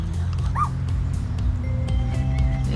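Puppy in a video game giving a short yip or bark, a single brief call riding over a steady game background hum, with no talking.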